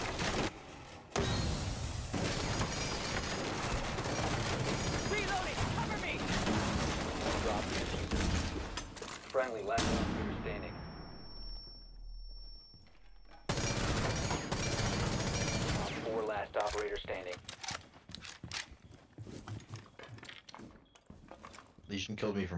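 Shotgun blasts in a first-person shooter match, fired from a basement, come as loud, dense bursts of gunfire with mechanical clatter, broken by a short quiet gap before the shooting resumes.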